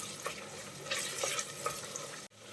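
Tomatoes and green chillies sautéing in a pan for palak beef curry, with a steady soft sizzle and scraping stirring strokes, ending in a sudden brief stop.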